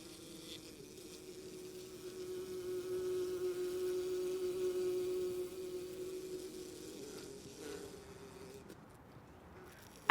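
Steady honeybee buzzing hums for several seconds, swelling and then fading a little, with a faint background hiss and no voices.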